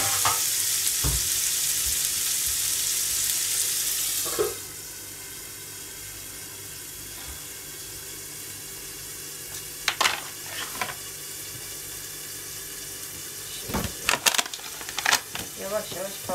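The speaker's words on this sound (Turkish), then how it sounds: "Yavaş yavaş kavurmaya devam ediyorum" Food sautés in a pan in a home kitchen with a steady hiss of sizzling, then the frying drops lower as stirring and occasional clinks and scrapes of a utensil break through.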